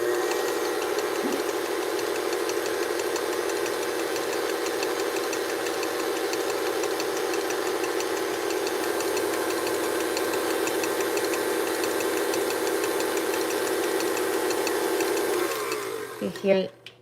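An electric mixer with a whisk attachment whirs continuously at a steady high speed while whipping sugar for macarons, a constant buzzing drone that cuts off near the end.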